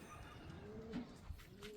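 Pigeons coo softly on a rooftop near their lofts, a single low, faint call heard against quiet outdoor background.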